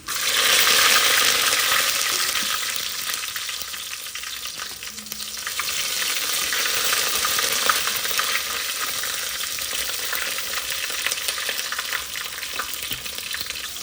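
Dried red chillies and garlic fry in hot oil for an egg and dal curry, giving a dense, even sizzle with a soft crackle and occasional light stirring, close and steady throughout.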